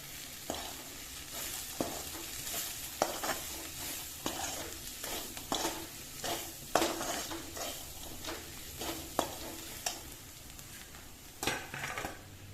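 Onions fry with a soft steady sizzle in a pan as spices are added for bitter gourd bhurji. A spoon stirs and scrapes the pan in repeated short strokes.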